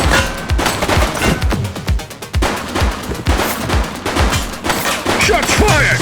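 Rapid gunfire in the police action game The Precinct on PS5 Pro, dense bursts of loud shots in quick succession with short gaps, like a sustained firefight.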